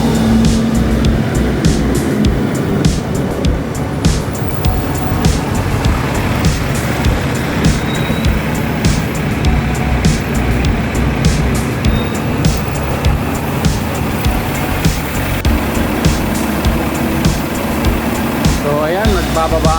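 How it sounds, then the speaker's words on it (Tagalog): Volvo KMB public buses at a Kowloon, Hong Kong bus terminal, producing a loud, continuous engine drone and traffic rumble for the whole stretch, with a voice talking over it. "So different color ng KMB na Volvo dito sa Hong Kong, yung public bus transport dito."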